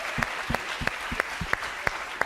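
Hackathon closing-ceremony audience applauding participants: a thin crowd wash with sharp, evenly spaced claps standing out in a steady rhythm, fairly close and moderately loud.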